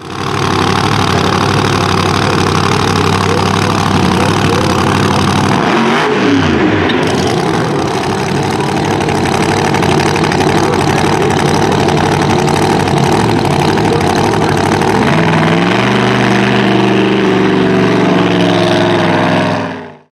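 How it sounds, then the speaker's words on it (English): A drag racing car holds a long, loud burnout at Maryland International Dragway during the Conquerors Of Chaos East Coast Nationals, its engine roaring continuously at high revs for the full stretch, with pitch shifts midway and near the end. "that's probably the longest burnout we've seen on Delbert White so far this weekend"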